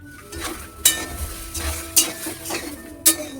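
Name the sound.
vegetables with salt and turmeric sautéed in pan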